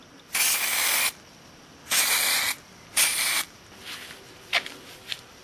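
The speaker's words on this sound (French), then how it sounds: "avec une bombe c'est plus rapide" Three sharp, loud hissing bursts of a spray paint can coating a portico, each lasting under a second, followed by a few shorter, fainter puffs, with no talking.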